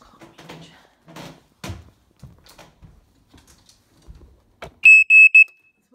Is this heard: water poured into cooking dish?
no